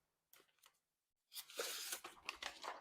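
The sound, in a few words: Cold Steel 4-Max knife cutting paper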